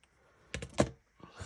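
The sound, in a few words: cutting paperclips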